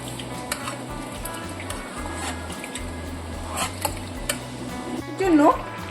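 Rice, lentils and spices for khichuri stirred into hot water in a pot, with soft scraping and sloshing under steady background hiss and occasional clinks of a spoon against the pot.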